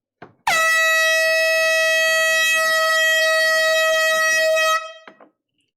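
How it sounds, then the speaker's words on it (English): A single long, loud air horn blast during a live vinyl record auction sale, holding a steady tone for about four seconds before cutting off abruptly, with no talking. "Air horn coming in 5, 4, 3,"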